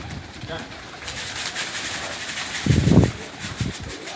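Soft pigeon cooing at a coop, a low burst near the end, over outdoor background noise with faint talking.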